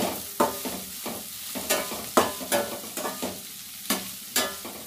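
Sweet corn with chili powder frying in a pan, a continuous close sizzle broken by regular sharp scrapes and knocks of a spatula stirring, about one every half second, with no talk.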